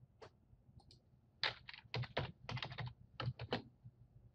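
A note being typed on a computer keyboard gives a run of close, crisp key clicks in quick irregular bursts, quiet and alone without any talking.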